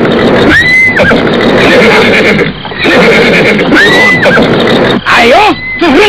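Horses whinny loudly several times in a radio drama, the shrill neighs rising and falling in pitch between bursts of hoof and movement noise, with no talk over them.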